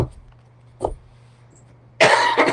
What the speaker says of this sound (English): Clear my throat a little bit.